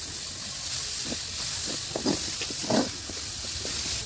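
Masala frying in a pan for a home-style dry fish (sukhri jilu) recipe gives a steady, close hiss with scattered louder crackles and pops throughout, heard alone without talk.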